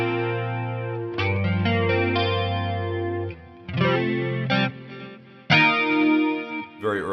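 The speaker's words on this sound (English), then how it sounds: "One of them is this chorus sound" Guitar through a Fractal FM9 with a Mesa Boogie style chorus tone and plenty of delay, ringing chords and short phrases swirling with modulation and echo tails, played alone.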